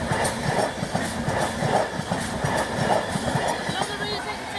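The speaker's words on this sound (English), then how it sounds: "LNER passing Durham" An LNER train passing Durham station, a steady rumble with rhythmic wheel clatter at moderate distance, and people talking nearby.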